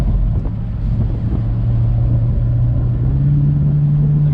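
A 2019 Chevy Camaro SS convertible with a front-mounted V8 engine drones steadily while being driven, a deep sustained rumble that rises slightly in pitch toward the end, loud and close with wind buffeting throughout.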